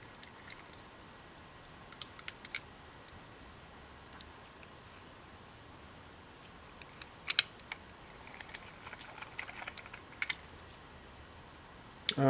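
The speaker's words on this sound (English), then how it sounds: "Oh, it's the ball bearings." Worn ball bearings click in the engine of a Stihl MS210C chainsaw, making faint, irregular, sparse ticks against a quiet background, with a few louder clusters of clicks. No one speaks.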